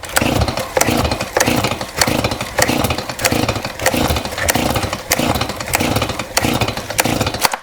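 A STIHL chainsaw with bar oil contaminating its fuel tank is cranked with the choke down: loud, rhythmic rasping pull-start strokes repeat about every second, close to the mic, and the engine never catches.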